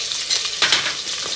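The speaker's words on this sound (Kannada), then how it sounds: "ಸೊ ಮಿಕ್ಸ್ ಮಾಡ್ತಿದ್ದೀನಿ." Onions frying and being stirred in a pan for chicken biryani, a close, steady sizzle with scraping stirring strokes, loudest in a brief swell midway, no talk.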